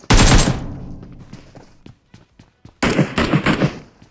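Loud automatic gunfire in PUBG Mobile: a sharp close burst opens, fades into scattered lighter cracks, then a second heavy rapid volley erupts with several peaks.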